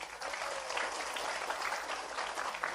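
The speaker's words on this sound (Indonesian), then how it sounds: "Tepuk tangan dulu dong." A crowd at an Islamic sermon gathering for donors breaks into steady, dense applause, a continuous wash of many hands clapping at once, moderately loud and without talk over it.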